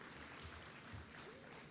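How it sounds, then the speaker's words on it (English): Audience applause for a session moderator at a supply-chain conference, a faint, steady patter of clapping heard from a distance, continuous and even throughout. "Please, let's give the moderator a round of applause"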